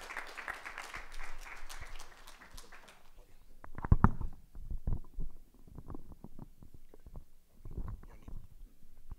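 A church congregation gives a hand clap of praise, brief scattered clapping at first that drops away, followed by quieter shuffling, thumps and movement through the rest.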